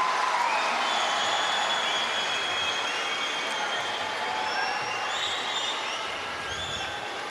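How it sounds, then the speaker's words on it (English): The Indian crowd in a gymnastics arena at the 2010 Commonwealth Games women's vault final sends up a sustained, dense roar of cheering and noise, steady and loud throughout. "And the Indian crowd starts to get excited."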